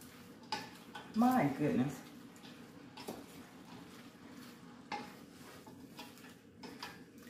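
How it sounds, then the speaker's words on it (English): A spoon stirs fried cabbage and sausages in a pot, making a short cluster of scraping clinks and knocks, then sparser taps, with a voice speaking briefly. "let's give that a nice little stir"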